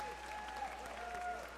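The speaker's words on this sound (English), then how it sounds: "Big round of applause for everybody." Faint, steady applause from guests at a Mardi Gras ball in Long Beach, distant clapping with a tonal hum and a few voices underneath.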